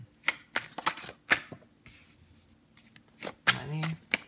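Tarot cards being shuffled, handled and drawn in a reading, several crisp flicks and slaps spaced unevenly at close range, with a voice talking briefly between them.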